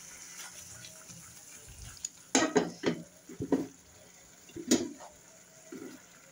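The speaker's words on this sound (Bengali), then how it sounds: "অল্প একটু পানি দিয়ে মশলার সাথে কষিয়ে নিচ্ছি।" Hilsa fish and roe are cooked in masala with a little water over medium heat, heard as a soft background sizzle broken by several sharp clinks and scrapes of a utensil against the pan.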